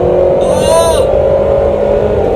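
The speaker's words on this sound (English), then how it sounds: "This car makes one of the most beautiful sounds of any car." Ferrari F355 V8 engine revving, a rising high-pitched wail that climbs and falls back over about half a second, then settles into a steady idle drone with a voice talking over it.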